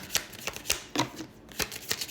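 A deck of playing cards is shuffled by hand: a rapid series of crisp riffling bursts and soft card slaps in an uneven rhythm, close and fairly quiet, with no talking.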